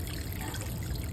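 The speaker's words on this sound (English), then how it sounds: "Watering our onion sets." Onion sets in a pot being watered with fresh water, a steady close splashing trickle running throughout without pause, no talk.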